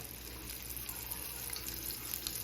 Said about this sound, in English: Put all of these in here. Let them fry.